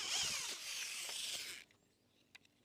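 Power drill boring 10 mm holes in a steel bar, a steady high whine lasting over a second before it stops, followed by a few faint clicks, close by with no speech.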